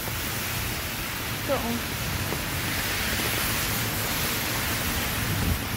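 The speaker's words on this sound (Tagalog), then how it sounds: "Grabe ang ulan guys." Heavy rain pours steadily on a street in Singapore as a broad, constant hiss, with a brief spoken remark near the start.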